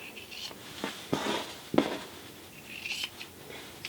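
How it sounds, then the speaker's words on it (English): Scissors trim the fabric seam corners of a zipper bag, a few quiet close snips and crisp blade cuts spread over four seconds with soft handling noise between. "So I am just going to trim it. I'm going to trim the corners."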